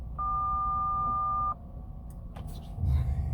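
In a 1992 Mercedes 600SEL, the car phone gives a steady electronic tone of about one and a half seconds. A few faint clicks and quiet cabin noise follow, with low murmur near the end.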